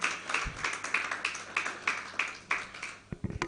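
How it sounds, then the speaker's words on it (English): Scattered hand clapping from a small audience at a managing partners' roundtable on legal services pricing, welcoming a speaker joining remotely; a few sparse claps carry on under a faint room murmur and die away. "A round of applause for Dr. Gabriel Onagoruwa, partner,"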